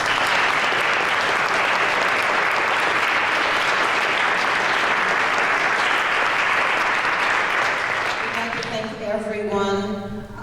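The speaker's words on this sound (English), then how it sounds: "if you give everybody another really big round of applause" Audience at a community meeting on a coal problem applauds loudly and steadily for several seconds, the clapping fading near the end as a voice begins speaking over it.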